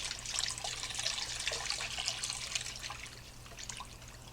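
Broth trickles into brown gravy for hamburger steaks while it is stirred, a faint liquid pour with soft splashy detail that fades slightly toward the end. No one speaks.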